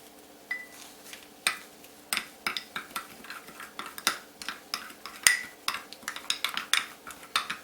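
A spoon scrapes and knocks around a bowl as Miracle Whip mayonnaise is stirred for a deli-style sandwich, giving a steady run of close, sharp clinks and scrapes with no talking.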